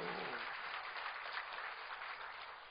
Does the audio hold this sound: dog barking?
no